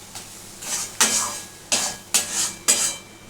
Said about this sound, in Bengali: এবার এটাকে আমাকে নাড়তে হবে, অনবরত নাড়তে হবে এবং গ্যাস কমিয়ে কমিয়ে নাড়তে হবে যাতে লাল না হয়ে যায়।